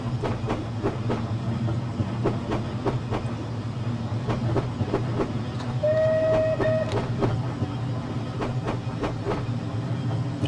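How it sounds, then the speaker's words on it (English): Bulleid steam locomotive whistle in Train Simulator 2020, a short clear whistle blast heard once over a steady loud rumble and rhythmic clickety-clack of wheels on rails. "So love the Bullied whistle."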